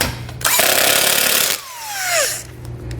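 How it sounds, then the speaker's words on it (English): A power tool runs loudly for about a second, tightening factory hardware on a crossbar-style base plate on a 2019 Jeep bumper, then winds down with a falling whine as a quieter second burst follows. "then we'll tighten that factory hardware into place"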